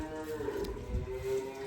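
Dairy cull cows mooing in a farm setting, one long low moo stretching across the moment, fairly close with a steady background hum.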